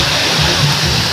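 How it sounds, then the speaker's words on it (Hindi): Water gushing out at a water park, a loud, close, continuous roar of rushing water with no break. "यहाँ पे मतलब पानी निकल रहा है"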